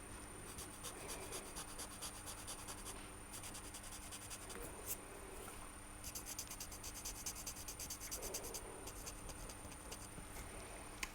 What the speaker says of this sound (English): get your tortillon out and blend